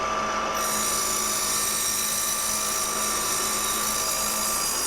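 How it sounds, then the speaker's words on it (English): The spindle of a Tormach PCNC 1100 CNC milling machine cuts a part in a production run, a loud continuous high-pitched whine with grinding texture and steady tonal hum throughout. "I stop the spindle as soon as the cutter breaks through"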